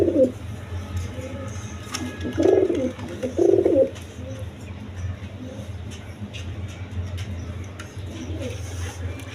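A pair of high-flying Giribaz pigeons coos in two low, throaty bursts close by, then a softer coo near the end, over a steady low background hum.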